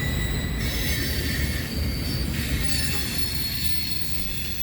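Freight train with 86-foot railcars, including CSX, Norfolk Southern and CN cars, rolling past close by with loud wheel squeal and a constant low rumble.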